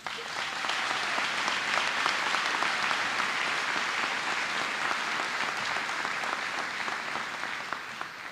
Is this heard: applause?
yes